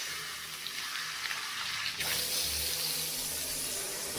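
Lukewarm tap water runs into a bathtub for rinsing laundry, a steady close rushing stream that grows fuller midway and continues without speech.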